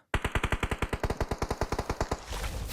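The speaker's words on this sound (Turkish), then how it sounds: "Bana sıkıyor şu an." Rapid automatic gunfire in the battle royale game PUBG, a steady burst of about twenty close, loud shots in quick even rhythm that gives way to a rough rushing noise at the end, with no talking.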